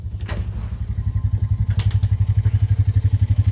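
A Honda motorcycle engine idling close by, starting with a rough clatter before settling into a fast, even low thumping pulse that stays loud and steady.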